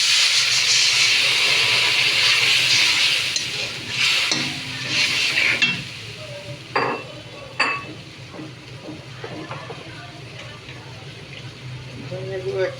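Water splashes into a hot pan of frying fish masala and turmeric for a fish-head and moong dal muri ghonto, setting off a loud, bright sizzling hiss that fades after a few seconds, followed by clinks of stirring and people talking.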